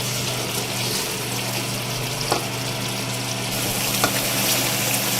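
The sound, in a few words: mutton and potatoes being fried in oil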